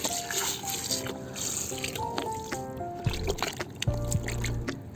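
Plums are rinsed under running water, a close, uneven trickle and splash with occasional light knocks and thumps.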